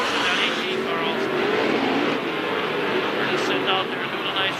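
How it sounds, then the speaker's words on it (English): Race car engine noise from the No. 18 car on a racing circuit during a live race broadcast, a steady loud roar held throughout with a commentator talking over it. "Boy, Atkinson pushing that 18 car also."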